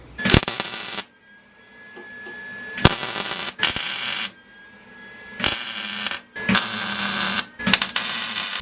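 Welding a bung onto a turbo Mustang part, with six loud crackling bursts of about a second each separated by short quiet gaps, close and harsh.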